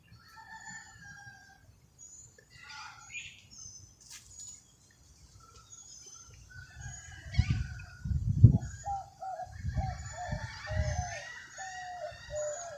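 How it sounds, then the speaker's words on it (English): Rooster crowing and other birds calling outdoors, several overlapping calls from varying distances, with louder low rumbling bursts near the end. "I'm hearing more birds than I've heard in over a month."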